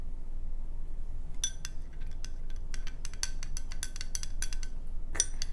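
A spoon stirs a brown sugar boba drink in a glass, bright clinks and ticks tapping irregularly against the rim over a quiet room hum, with a louder flurry near the end.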